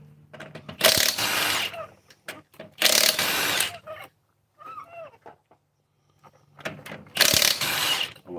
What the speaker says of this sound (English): I love this impact gun.